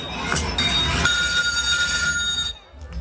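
A telephone rings continuously for about two and a half seconds during a stage skit at a school's annual function, heard through a hall's sound system over room ambience before cutting off.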